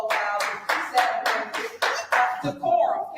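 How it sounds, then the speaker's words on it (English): Distinct hand claps from a person at a council meeting, about eight sharp, evenly spaced claps roughly every third of a second, close and loud, with a voice speaking faintly beneath them. "He's clapping."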